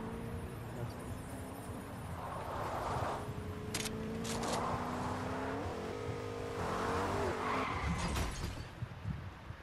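A car drives and skids in Fortnite, its engine droning steadily with shifting pitch while repeated tire-scrub bursts and a few sharp clicks come through over constant game noise.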